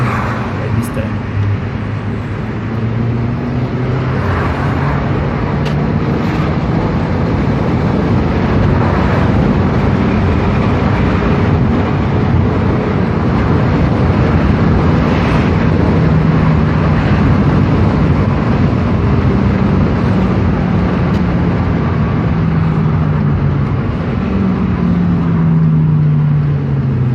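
A VW Mk5 GTI fitted with a GFB DV+ diverter valve drives along steadily, its engine and road noise a continuous loud drone with gentle rises and falls in pitch as it accelerates and shifts, alone without talk.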